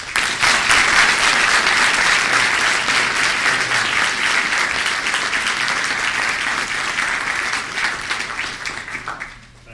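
An audience welcomes a distinguished lecturer with sustained, dense applause, loud and steady for several seconds before tapering off toward the end.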